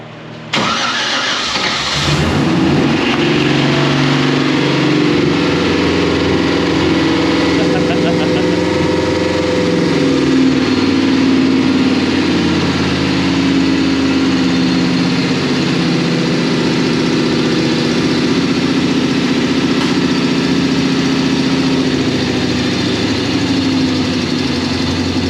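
A newly revived car engine fires up on its first start after a brief crank and then settles into a steady, even idle that runs loud and close for the whole stretch, with people talking quietly over it.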